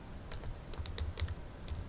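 Soft, irregular key taps on a computer keyboard sound up close and fairly quiet, with a few quick clusters of clicks spread over two seconds.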